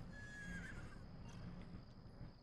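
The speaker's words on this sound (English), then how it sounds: "Look, there's just a bunch of horses running around." Horses in The Sims 3 video game let out a clear whinny over a steady background of clip-clop hooves and ambient noise, with no talking.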